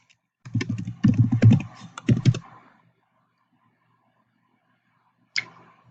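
Quick bursts of typing on a computer keyboard while logging in, a flurry of clustered key clicks for about two seconds, then quiet and one final isolated keystroke.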